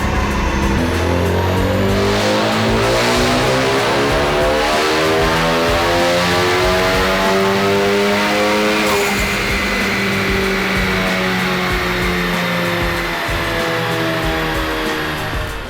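Ford Focus ST turbo engine running on ethanol, fitted with a GTX2867 or BNR3071 turbo, revving up in a long, loud dyno pull on rollers, its rising harmonic drone climbing steadily, with a brief whoosh near the top before leveling off.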